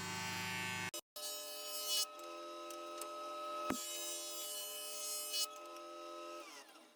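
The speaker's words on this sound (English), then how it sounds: "I like to start at the joiner to flatten one face." A jointer runs steadily while flattening one face of a board, a loud, even machine whine with strong harmonic tones, briefly cut off near the start, with a few knocks as the lumber feeds through before the pitch drops at the end.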